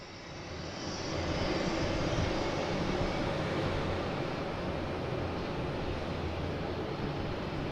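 A jet airliner taxis along the runway at Boston Logan International Airport, its engines holding a broad, steady roar from start to end.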